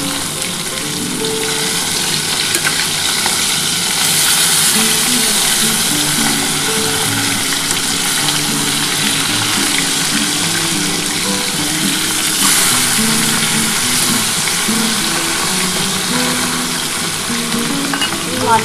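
Fasa fish pieces frying in hot oil and being flipped in the pan, giving a steady, loud, close crackling sizzle that runs unbroken throughout, with no talking.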